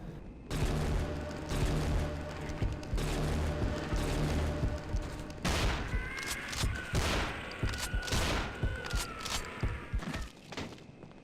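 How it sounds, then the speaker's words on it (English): Gunfire rings out in a Half-Life 2 mod firefight, several loud sharp reports in quick succession over a dense, noisy background. "you've gotta love the silenced pistol"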